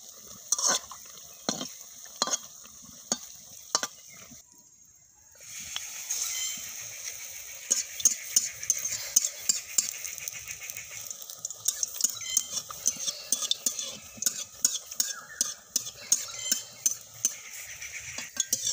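Besan-coated chilies go into a wok of hot oil for pakoras, bringing a steady frying hiss with sharp clinks and scrapes of a utensil scattered over it, following a few isolated clicks at the start.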